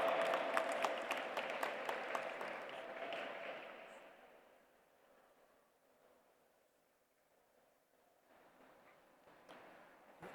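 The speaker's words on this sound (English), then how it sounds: "Please put your hands together and welcome with a big round of applause" Applause from the audience at a G20 Interfaith Forum valedictory session in Pune, dense and loud at first, then thinning and fading out by the middle before a faint rise of scattered clapping near the end.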